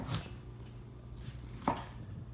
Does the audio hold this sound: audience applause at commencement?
no